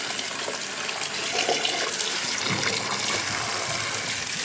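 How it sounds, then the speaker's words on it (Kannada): Water poured steadily onto a cardboard-based potting mix, a continuous close gushing splash lasting throughout with no talking. "ಇನ್ನೂ ನೀರು ಹಾಕ್ತಾಯಿದ್ದೀನಿ ನೋಡಿ"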